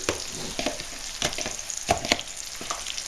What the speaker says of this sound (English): you can see my kale is still cooking in the back, cooking down nicely